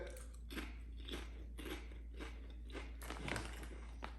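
Someone crunches steak-flavored potato chips, a close, quiet series of about eight crisp bites and chews spaced in a steady rhythm, with no talking.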